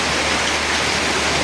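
Heavy rain pours outside a house, a dense, loud, unbroken roar of falling water with no pauses or voices.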